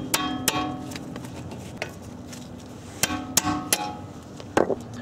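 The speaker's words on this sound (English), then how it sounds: "What you can use is a hand impact set because they're really, really tight." A hand impact driver is struck with a hammer to loosen tight, seized rotor screws on a Honda or Acura brake assembly. Several sharp metallic blows land at an irregular pace, with quiet gaps between them.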